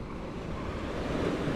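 Ocean surf rolls and breaks on the beach at Playa del Carmen, a continuous close wash of waves with rushing wind buffeting the microphone.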